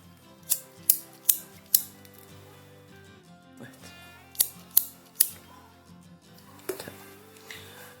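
Scissors snip thread while an earring is beaded from super duo beads and crystals, giving two quick runs of crisp, close snips: four sharp cuts early on, then three more, and a faint last one near the end.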